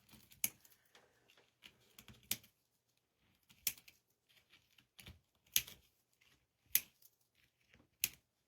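Scissors snip ribbon tails while a winter deer wreath is being made, giving a quiet, sparse series of sharp clicks and short cuts at irregular intervals, close and alone with no talking.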